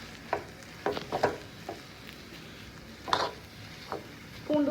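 Fenugreek leaf kootu with garlic being stirred in a pan, scattered scraping and clinking of a spoon against metal over a faint low sizzle, quiet and intermittent with a louder scrape at the end.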